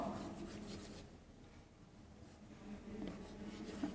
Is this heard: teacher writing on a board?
yes